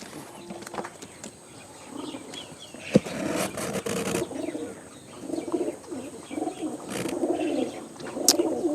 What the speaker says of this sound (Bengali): কবুতর সবগুলো কার্টুনে ভরা হয়ে গেছে